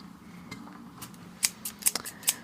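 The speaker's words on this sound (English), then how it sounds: "Look at these big scissors." Large scissors snip several times, with a few sharp crisp cuts coming close together near the end, over a quiet room background.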